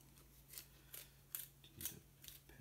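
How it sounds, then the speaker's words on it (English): Scissors snip through a sheet of printing paper being prepared for intaglio printmaking, about six crisp, quiet cuts in a steady rhythm, close up with no talking. "I'm gonna cut this now in half."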